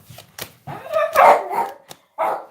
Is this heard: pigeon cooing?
no